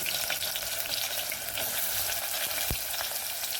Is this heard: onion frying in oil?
yes